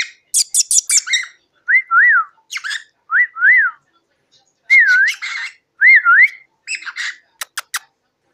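A talkative pet parrot whistles up close, giving a run of short, bright rising-and-falling whistles and sharp chirps in separate bursts with brief pauses between them. No voices are heard.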